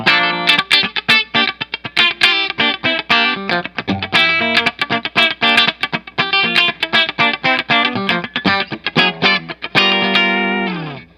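An electric guitar played with a thin, fairly clean split-coil pickup tone, quick picked notes and chords ringing out loud and up front, ending on a sustained chord.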